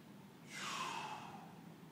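A single deep breath taken during a morning bootcamp exercise session, a soft airy inhale swelling and fading over about a second, close and quiet against a low background hum.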